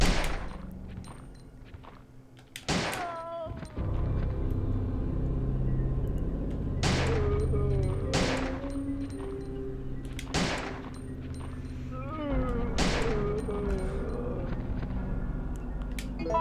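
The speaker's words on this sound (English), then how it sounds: "He was just chilling here and we shot at him." Gunfire in the survival horror video game Resident Evil 3, several sharp, loud shots spaced a few seconds apart, each with a booming tail, over low rumbling game ambience with no talking.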